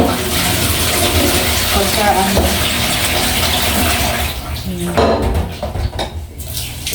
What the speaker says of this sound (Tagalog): Kailangan 2 beses yung hugasan yun bago ipakuluan